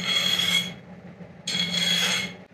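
A file rasps across the edges of a metal block plane to put a chamfer on them, two close, fairly quiet strokes separated by a short pause, with no talk.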